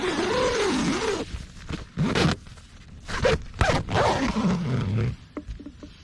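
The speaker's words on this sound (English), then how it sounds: "Just that zip worries me." Tent door zipper on a Gram-Counter Gear VLT shelter being opened and closed in several close, loud rasping pulls of varying length, separated by short pauses.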